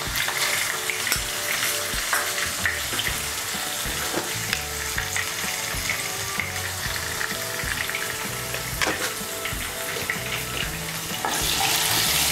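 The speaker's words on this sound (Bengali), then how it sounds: "আলুগুলোকেও আমি ভালো করে ভেজে নেব" Potatoes, cut into medium pieces and seasoned with a little salt and turmeric, fry in hot oil in a wok, giving a steady, loud sizzle with occasional stirring clatter throughout.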